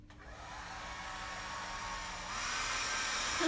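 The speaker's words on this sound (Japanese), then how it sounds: "髪の毛乾かしてきます" A hair dryer drying hair roars with a steady broadband blowing hiss and a faint motor hum, growing slightly louder and brighter partway through as it moves closer.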